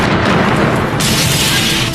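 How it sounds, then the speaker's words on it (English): A massive bomb explodes outside the US embassy in Nairobi, releasing a loud, sustained roar of blast noise that fills the whole moment without pause. "the air is shattered by a massive explosion"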